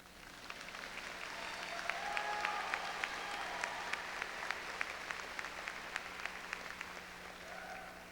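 Steady, fairly quiet applause from a high school graduation audience in 2000 rolls on for several seconds, many hands clapping evenly with a few sharper claps standing out and no talk over it.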